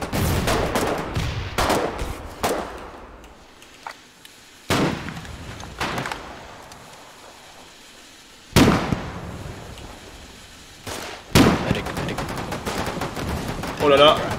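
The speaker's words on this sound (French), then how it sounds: "Oh les grenades" Trench combat in the video game Foxhole: sharp grenade blasts and bursts of gunfire crack out in irregular volleys, some close and loud, others farther off, with lulls of distant rumble between them.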